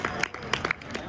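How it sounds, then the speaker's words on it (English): Audience applause at the NAMM trade show, a brief, thin scatter of hand claps from a small crowd, fairly close and moderate in level, lasting about a second. "So I feel like you got more applause"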